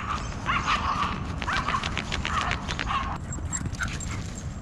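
Dogs at a dog run whimper and yip in short high-pitched bursts over a steady outdoor background hum, repeated several times at close range.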